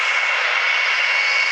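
Avro Vulcan jet engines at the Waddington airshow give a loud, steady, unbroken roar that holds close and constant throughout, with no voices over it.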